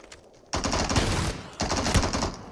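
M4 rifle fire in the video game Super People, heard as two loud bursts of rapid automatic shots, the first longer and the second after a short pause, with no talk over them.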